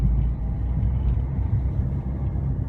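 A car rolls downhill in first gear with no pedal pressed, giving a steady, loud low rumble of engine and road noise from inside the cabin, with no talking.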